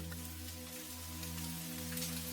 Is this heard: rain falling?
yes